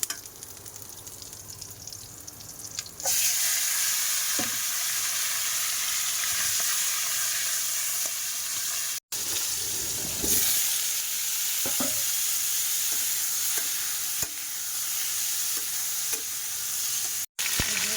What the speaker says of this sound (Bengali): তো এই যে এদিকে মাছ ভাজবো